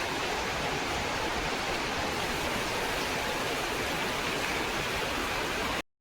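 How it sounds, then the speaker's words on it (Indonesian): Heavy rain in India pours as a dense, steady hiss that stays even throughout before cutting off abruptly at the end. "Ini hujan besar banget tuh."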